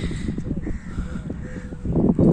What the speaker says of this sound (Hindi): यहाँ मेरे अलावा सिर्फ पक्षियों की आवाज़ आएंगी